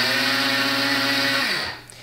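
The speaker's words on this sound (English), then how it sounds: "For the oatmeal, I personally use a coffee grinder." Coffee grinder grinding a tablespoon of oatmeal, a loud steady high-pitched whir that winds down as the motor stops, with no talking.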